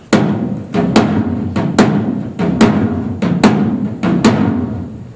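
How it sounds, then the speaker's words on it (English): Open-sounding drum played in a syncopated baião rhythm at a live event, sharp ringing hits spaced in a repeating pattern over a sustained resonant tone, close and loud with no voices. "they do it with an open drum sound, which kind of sounds like this, right?"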